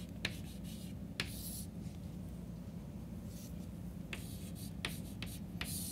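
A pen or marker scratches out numbers on a surface, with quick separate strokes and short scribbled bursts spread across the stretch over a faint steady background hiss.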